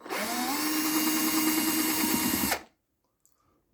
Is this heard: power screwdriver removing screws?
yes